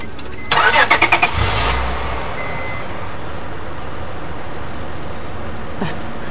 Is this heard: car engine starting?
yes